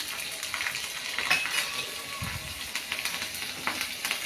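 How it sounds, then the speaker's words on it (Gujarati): Green chillies fry in hot oil with a busy, even sizzle and crackle, plus a faint metallic clink partway through. "લીલા મરચાં પણ ફ્રાય થઈ ગયા છે."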